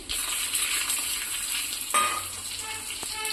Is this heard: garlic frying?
yes